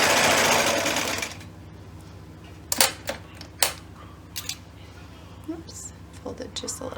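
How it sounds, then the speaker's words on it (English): A sewing machine runs briefly while stitching across the top of a fabric luggage tag. Short bursts of mechanical whirring come between pauses and small handling clicks, close and fairly quiet, after a louder opening noise. "stitch across the top here"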